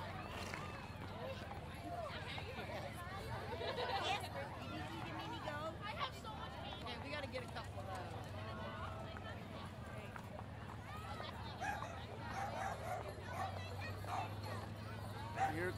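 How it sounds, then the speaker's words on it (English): Steady clip-clop of several horses' hooves on a hard surface during a holiday parade, mixed with crowd chatter and background babble throughout. "Here comes the horses."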